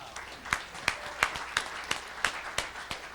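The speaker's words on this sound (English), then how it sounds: "Give him another big round of applause" Faint, sparse applause from a small audience at a school-style pitch show, with about eight distinct claps at a slow, fairly even rhythm.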